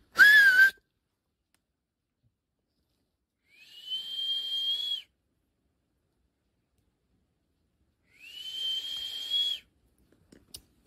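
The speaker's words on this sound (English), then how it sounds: "we need to whistle to call the wind to come to cool us" A person whistles three long, steady, high-pitched notes at noon in hot weather, clear and close, with silent pauses between each one.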